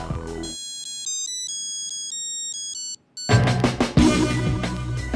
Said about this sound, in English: just like people whose mobile phones play tunes